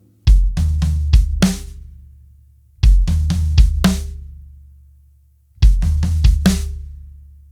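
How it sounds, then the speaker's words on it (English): A drum fill played three times over: a kick, two floor tom hits, another kick and a snare crack, each pass a quick booming run with ringing decay before the next. "we're gonna do a kick, 2 floor toms, and then another kick drum and a snare drum."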